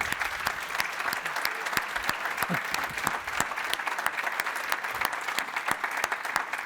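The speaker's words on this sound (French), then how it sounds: "On peut les saluer peut-être par quelques applaudissements." An audience at a round-table industry conference applauds, with steady, dense clapping from a sizable crowd that holds evenly throughout and a faint voice underneath.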